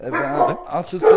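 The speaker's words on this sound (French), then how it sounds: "Pardon, désolé, c'est mon chien." A pet dog barking close by in a few quick, loud woofs that overlap someone talking.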